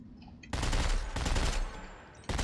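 Rapid automatic gunfire from a submachine gun in the sci-fi horror game Dead Space 3, loud dense bursts that stop briefly and then resume, alone with no talk.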